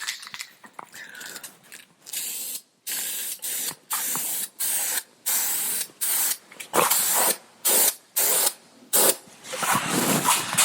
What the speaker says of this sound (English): just going to take a little bit of the Krylon white spray paint